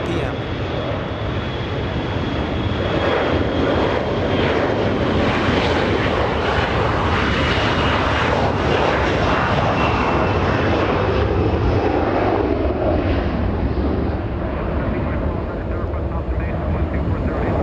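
Boeing 787 Dreamliner jet airliner at Los Angeles International Airport, a loud sustained engine roar with a steady high whine, dense and unbroken for the whole stretch.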